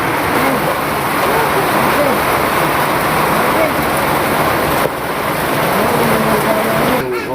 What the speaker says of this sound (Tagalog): Masyadong malakas po mga Kalingap ang ulan.